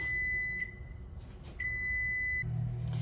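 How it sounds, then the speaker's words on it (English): Kitchen timer going off while cookies bake, two steady high electronic beeps each held about half a second, clear and fairly near over a low room rumble. "the timer went off as I was making the frosting"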